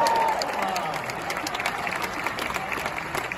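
A big convention-hall audience at San Diego Comic-Con 2022 applauds a William Shatner panel, a broad, sustained wash of clapping with a brief cheer near the start.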